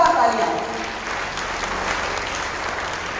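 Applause from an audience at a school prize-giving ceremony in a hall, a dense sustained clapping that starts strongest and settles into a steady wash throughout, with some voices mixed in beneath it.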